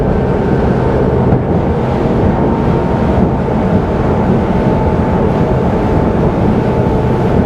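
RYCK 280 day boat engine winding up toward top speed in rolling swell, a steady loud roar mixed with wind buffeting and water rush, continuous and close, without talk.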